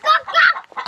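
A chicken clucking close by in a short burst of several quick, loud clucks, with no talk over it.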